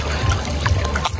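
Water splashes and trickles close by as someone swims in a pool, a short, steady burst of sloshing with a few brighter drips.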